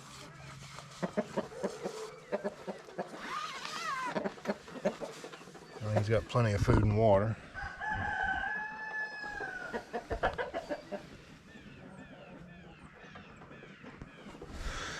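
Two roosters kept apart from the flock cluck in their own pen, with a crowing call rising mid-clip, while a person talks over much of it.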